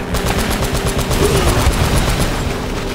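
Rapid, loud automatic gunfire from Uncharted: Drake's Fortune hammers in a steady stream of close shots for the full stretch, with no speech over it.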